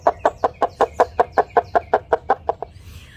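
A cup-and-yarn noisemaker imitates a chicken call, producing a quick, regular run of about fourteen clucking pulses that stops abruptly. The sound is close and clear with no voices.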